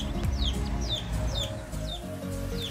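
Chickens cluck and chirp repeatedly in a rooftop coop, with high calls sounding at a steady rhythm over a dense, noisy background.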